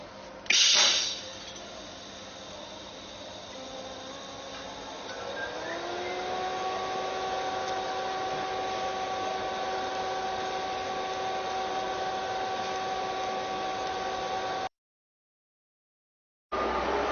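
Steady hiss with a faint tonal whine from a CEA Matrix 2200 AC/DC TIG welding inverter in DC mode on 2mm stainless steel, a brief crackle at the arc start, then an even drone that cuts off and resumes near the end.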